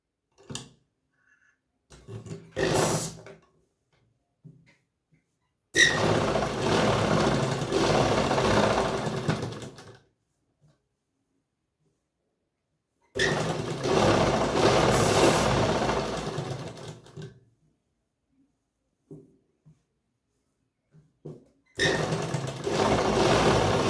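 A sewing machine stitches a fine seam on a heavy Patiala salwar, running in two long bursts of roughly four and eight seconds plus a few short starts, close and steady with quiet pauses between runs.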